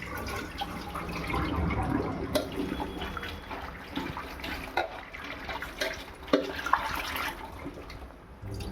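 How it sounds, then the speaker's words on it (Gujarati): Cut potato pieces for french fries being washed by hand in a bowl of water, a steady close sloshing and swirling with occasional splashes and clinks, no voices. "અહીંયા આપણે પાણીમાં નાખી દીધી બધી ધોવા"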